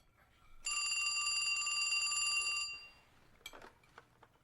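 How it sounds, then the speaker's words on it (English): A telephone rings in the J.B. Harold Blue Chicago Blues video game, giving one loud, sustained two-second electronic ring burst that then cuts off, followed by a few faint clicks and rustles. "Pick up the phone!"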